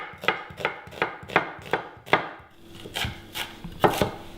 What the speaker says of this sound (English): We just need to cut up our onion.